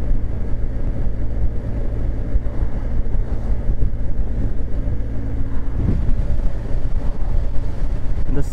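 A BMW R 1250 GS Adventure motorcycle rides over gravel, its engine a steady, loud low rumble that runs without a break, mixed with wind buffeting.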